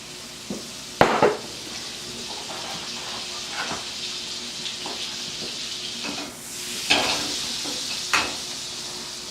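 Eggs frying over easy in a pan at Sunday brunch: a soft, steady sizzle and hiss with a few sharp clinks of a utensil against the pan, fairly quiet and close.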